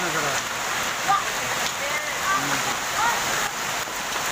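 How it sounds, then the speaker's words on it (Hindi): Hail in a heavy Delhi storm falls as a dense, continuous hiss and patter of hard pellets striking surfaces, with a few faint voices under it. "सूखा ओला पड़ रहा है, अब बारिश कम हो गई है लेकिन ओला ज़्यादा है"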